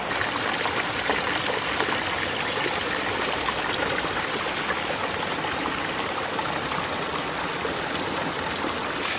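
A New Zealand bush stream flows steadily in a continuous close-up wash of rushing, trickling water, with no voices over it.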